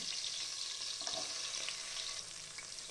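Chopped onion frying in hot oil over low heat for kancha macha kottai kulambu, a soft steady sizzle with brief crackles as it is stirred.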